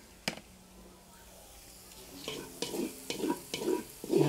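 Garlic is sautéed in oil in a pan outdoors, a faint sizzle building under a series of rhythmic stirring scrapes that grow louder toward the end, after one sharp tap near the start.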